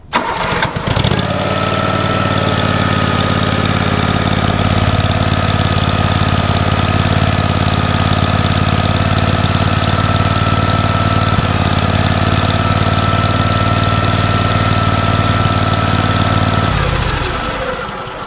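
A Ventrac tractor engine, fitted with a new oil pressure switch, cranks briefly and catches, then idles loudly and steadily close by for over fifteen seconds before shutting off at the end.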